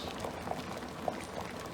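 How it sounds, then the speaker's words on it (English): A pot of Jamaican ital vegetable soup with coconut juice, breadfruit, corn, chocho, potato, carrots and pumpkin bubbling on the stove, a soft continuous simmer with scattered small pops at close range. "It's bubbling up now in it."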